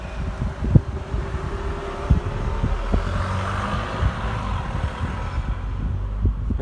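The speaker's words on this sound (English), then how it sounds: "That was a noisy car, just stop for a moment then. Bloody Golf diesels, well noisy." A noisy Volkswagen Golf diesel car passes outdoors, giving a low rumbling engine drone with wind buffeting the microphone. A few knocks stand out over the steady noise, and no one speaks.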